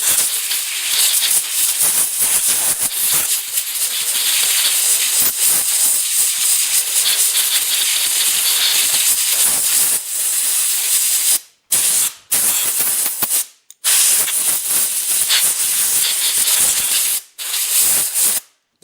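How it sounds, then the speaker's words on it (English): Compressed air blasts welds clean on a Snapper racing tractor axle, a loud, harsh continuous hiss running for long stretches and broken by a few short pauses between bursts. "when you're using air to clean welds, watch your eyes"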